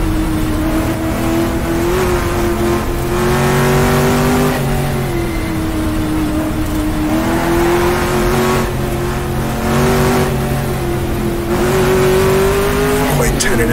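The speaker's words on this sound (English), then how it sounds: "Paul pressing the throttle a little bit there." A 1960s sports racing car in the GTR2 racing game revs as the throttle is fed in gently, the engine note rising and falling in smooth swells, loud and close, while a commentator talks over it.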